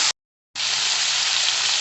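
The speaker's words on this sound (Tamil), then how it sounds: "வெங்காயம் நல்லா வதங்கிடுச்சு. இப்போ நம்ம நறுக்கி வச்சுருந்த தக்காளியை சேர்த்துடலாம்." Onions and tomato sizzle loudly in a hot pan, a brief burst, a moment of silence, then a steady close frying hiss.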